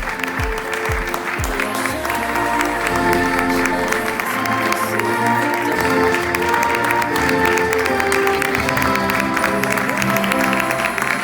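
Sustained applause from a crowd at a Valencian Falles celebration honoring the president and the fallera mayor infantil, steady and dense across the whole stretch with a few low thumps near the start.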